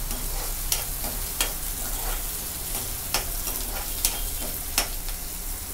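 Indori poha ingredients roasting in a pan, a close, continuous sizzle with regular sharp spatula taps and scrapes recurring roughly every second.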